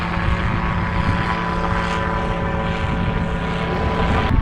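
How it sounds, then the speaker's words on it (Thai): Propeller aircraft droning overhead above Vang Vieng, a steady, continuous engine hum with a tonal buzz that holds at even loudness throughout, with no talking. "ได้ยินแต่เสียงพลามอเตอร์เนาะที่ว่าอยู่ในเทิงหัว"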